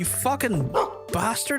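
A dog barks and yips in a farming video game, a few quick sharp barks close up, mixed with a man's excited speech.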